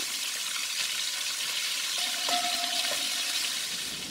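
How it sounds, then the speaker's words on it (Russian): Pork ham sizzles steadily in a kazan as it is stirred, with a constant close frying hiss and a brief scraping clink partway through. "я жарю, помешивая, примерно 10 минут"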